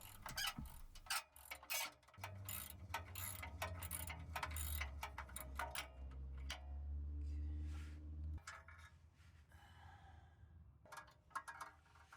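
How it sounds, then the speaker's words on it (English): A socket wrench ratchets off the spring bolts on a Honda S2000 exhaust under the car, quiet steady clicking with a low hum running through the middle. "Using a 12mm box wrench and socket wrench, we will remove the two spring bolts."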